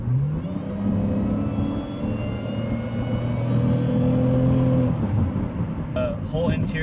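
A supercharged 2005 Ford Escape SVT accelerates at full throttle, its engine holding a loud, steady drone with rising whine for several seconds before easing off near the end.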